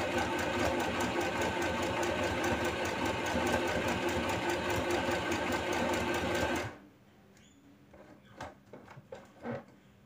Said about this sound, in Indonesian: kita langsung bisa menjahit dengan fitur zigzag sedang